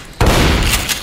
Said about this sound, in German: ich nehme mal hier mal kurz die Rohrflinte